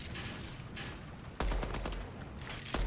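Hip-fire gunshots in the video game Deadrop, a steady stream of rapid rounds with two sharp louder bursts standing out, close and dense with no talk over them.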